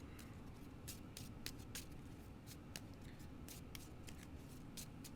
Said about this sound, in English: I'm supposed to shuffle this since I drew amnesia. I'm supposed to shuffle it.